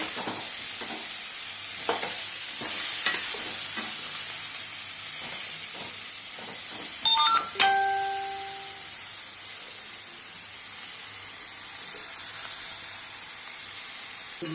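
Brinjal frying in oil in a kadai, a constant close sizzle with intermittent stirring scrapes and a short tonal clink partway through, no speech.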